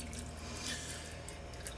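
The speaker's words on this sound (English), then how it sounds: "And then we're just going to pour it into the chocolate." Warm cream, heated to about 180 degrees Fahrenheit without boiling, poured into chocolate for a chocolate mousse cake: a soft, continuous trickling pour, quiet and close, with no talk.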